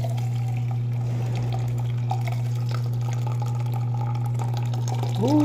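Water trickles and fills over a loud, constant electric hum as water is added for coffee, with a rising tone near the end as the vessel fills.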